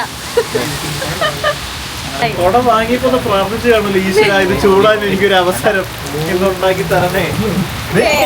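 Steady rain hisses down on a surface in Barcelona while people talk over it, the downpour constant and fairly loud.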